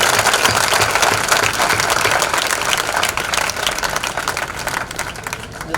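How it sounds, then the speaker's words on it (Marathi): An audience at an Indian independence commemoration gives loud, sustained applause honoring the relatives of ex-servicemen, a dense burst of clapping that gradually thins out. "आपण एकदा जोरदार टाळ्या वाजवून त्यांचं सगळ्यांचं अभिवादन करूया"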